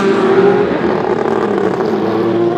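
Ford GT race cars at the Spa 6 Hours endurance race roar close by with a loud, sustained engine drone that shifts slightly in pitch as they pass.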